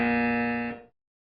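A quiz-show team buzzer sounds once, a loud harsh electronic tone held for under a second before cutting off abruptly, with nothing else heard.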